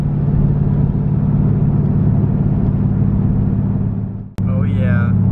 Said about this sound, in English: We're about to head out right now with the GTS.